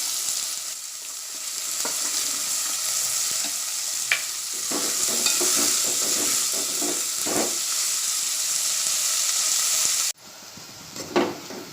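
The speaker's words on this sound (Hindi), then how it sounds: "अब मैं इसमें प्याज को तलूँगी। प्याज सुर्ख होने तक तलूँगी।" Onions fry in a pan for masoor pulao, giving a steady loud sizzle and hiss with intermittent scraping and clinking from stirring, and a short quieter stretch at the end.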